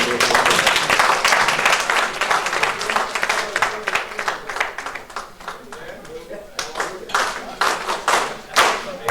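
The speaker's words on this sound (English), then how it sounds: "Let us give God a round of applause" Guests at an Anglican church banquet break into loud, close applause, dense at first and then thinning into scattered, separate claps toward the end, with voices mixed in.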